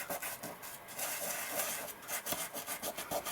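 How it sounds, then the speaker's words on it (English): Rubbing strokes of a burnishing tool pressing glitter into a double-sided adhesive sheet for a die-cut leaves thank-you card, a close, steady scratchy rasping that repeats in quick, uneven passes with no talking. "So we're just going to burnish the glitter into the double-sided adhesive sheet."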